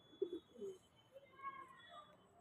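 Newly collected pigeons cooing nearby, with a couple of soft, low, throaty coos early on and fainter warbling calls afterwards over a quiet background with a faint steady tone.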